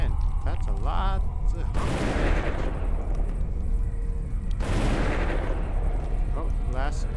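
Shotgun blasts in the zombie survival video game Dead Age, two loud booming shots a few seconds apart over a constant game background, with brief voice-like sounds in between.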